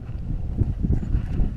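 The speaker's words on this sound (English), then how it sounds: "it's very windy, so fingers crossed this is still possible." Strong wind buffeting the microphone high on misty Blencathra near the clouds, a close, loud, gusty low rumble throughout.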